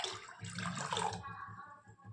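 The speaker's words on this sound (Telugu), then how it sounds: "తర్వాత తగినన్ని వాటర్ వేసుకోవాలి" Water pours into a cooking pot of sambar with tamarind in a short splashing burst, then tapers into a gentle trickle, close by and without talk.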